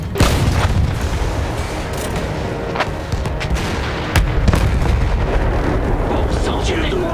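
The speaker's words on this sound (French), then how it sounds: "Tirez sur ce canon et on repart." A cannon fires in the World War I shooter game Battlefield 1, with one heavy boom at the start and a second blast a few seconds later, over a constant noisy battlefield rumble.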